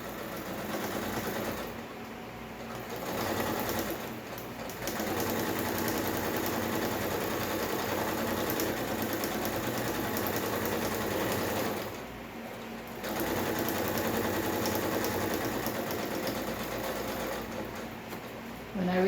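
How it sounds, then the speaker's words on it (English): Sewing machine stitching blouse fabric, a steady close mechanical whir running in long continuous stretches broken by short pauses, with a faint low hum. "And now I'm going to stitch"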